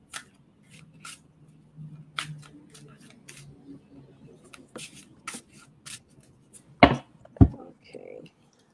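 Playing cards being shuffled at a table in quiet, sharp riffling bursts, with soft voices talking in between and two louder snaps near the end.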